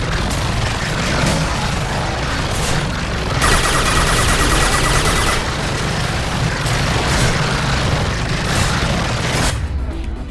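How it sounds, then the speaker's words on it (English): Impact shot fired in Mass Effect 2 during an Insanity-difficulty Engineer mission, a dense, sustained roar of weapon fire and blasts with a brighter burst midway, continuous combat noise throughout with a faint voice. "Firing an impact shot"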